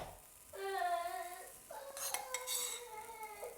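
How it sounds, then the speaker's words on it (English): A metal spoon scrapes and rings against a pot on the stove as breakfast food is scooped in, two drawn-out tonal scraping strokes with clinks between them, fairly close and quiet. "Everything's scooped onto fire into the pot now."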